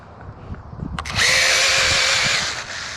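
An EDF jet-powered RC car launches from a dead stop at full throttle, its ducted fan winding up into a loud, steady high-pitched whine that holds for over a second before easing off slightly.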